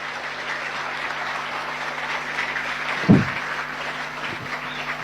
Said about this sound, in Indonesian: Tepuk tangan untuk Bata-Bata.